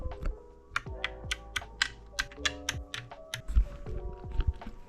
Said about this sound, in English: Time to unscrew the PCB board.